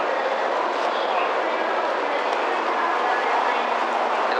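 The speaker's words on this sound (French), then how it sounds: "Et ça parce qu'il laisse passer un Shinkansen, j'en profite pour sortir un peu." A Shinkansen rushes through Aioi station in Japan with a loud, steady, broadband roar that holds for several seconds, heard close from the platform.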